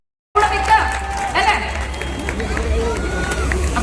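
An audience applauds during a prize handover on stage, a dense, steady roar of clapping and crowd noise with voices mixed in throughout.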